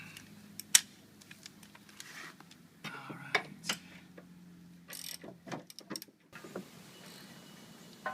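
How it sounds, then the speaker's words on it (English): Ratchet wrench working on hitch bolts during a Volvo trailer hitch installation, giving short bursts of close metallic clicking separated by pauses, with faint handling noises between. "Switch to my ratchet."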